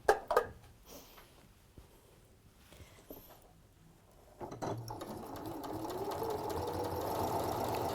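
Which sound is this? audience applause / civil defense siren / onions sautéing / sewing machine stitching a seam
sewing machine stitching a seam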